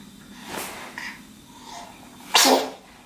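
A freshly bathed baby sneezes once, sharp and close, after a few small snuffly breaths in a quiet room.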